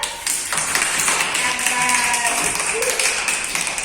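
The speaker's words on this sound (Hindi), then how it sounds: "ये देखो तैर रहे ना, तालियां बजाओ सब।" Schoolchildren clap together in a classroom during a floating-and-sinking science activity, a brisk burst of close, sharp hand claps with voices mixed in.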